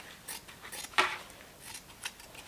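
Scissors snip through fabric on a freshly sewn satin bonnet, several quiet, close cuts with one sharper crisp snip in the middle.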